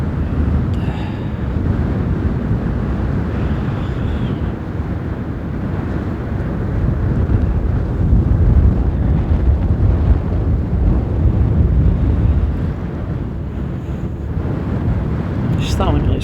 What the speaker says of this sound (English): We have some wind, which is chilly, a bit chilly, to be honest.